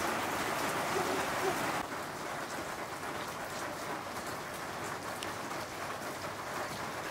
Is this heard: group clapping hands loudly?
no